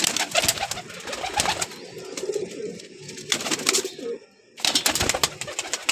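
Teddy breeder pigeons coo loudly and close by in a Lahore loft, with repeated throaty calls that overlap and briefly drop away before resuming.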